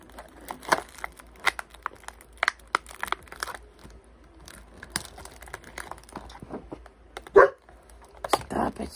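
A female dog in her first heat cycle barks in a few sharp, scattered bursts indoors, mixed with crinkling packaging and crunching handling noises close by.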